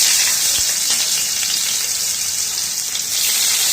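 Chopped onion and whole garam masala frying in hot oil, a loud, dense, even sizzle heard up close with a faint stir or two, no talk.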